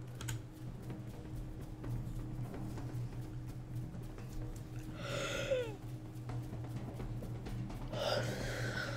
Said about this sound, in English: That's a yawn.